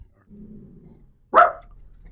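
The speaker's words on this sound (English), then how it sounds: "That big dog sound was a Jack Russell." A Jack Russell terrier gives a low growl, then a single loud, sharp bark close by, followed by quiet.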